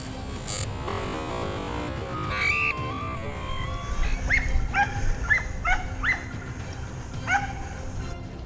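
Hunting dogs give repeated short barks and yips while tracking wild boar near a vineyard edge in the underbrush, several bursts spread over a few seconds at moderate distance above a steady outdoor rumble.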